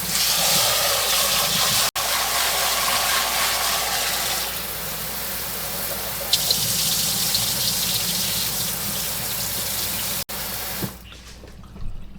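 Tap water gushes steadily over rice being rinsed in a sink, a broad hissing rush that brightens partway through, with a couple of brief cutoffs and a final stop near the end.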